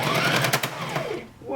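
A sewing machine runs a long basting stitch around the seam of a drawstring blouse, a steady close mechanical whir with rapid needle chatter that slows and fades near the end.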